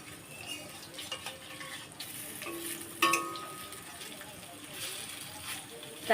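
Pumpkin-and-potato barfi pieces fry in oil in a kadai with a low, continuous sizzle, a sharp clack as a piece is turned over, and occasional small scrapes.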